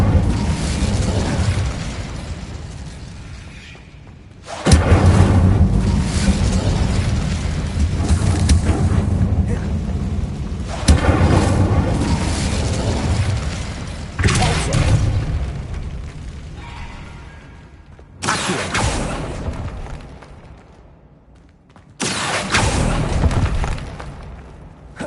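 Incendio fire spells in Hogwarts Legacy on PS5 go off as a series of loud, booming blasts, five bursts over about 25 seconds, each with a roaring tail, set against game ambience.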